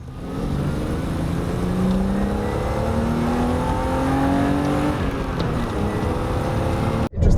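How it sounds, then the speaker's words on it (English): A BMW E30 325is six-cylinder engine revs continuously and loudly, its tone rising and falling as it pulls through gears. It ends with an abrupt cut. "This is just pure 6-cylinder noise."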